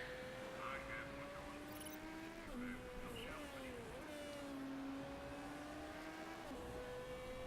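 Race cars on track in the video game Motorsport Manager, a thin steady engine whine that dips and rises as gears shift, faint and continuous under a voice.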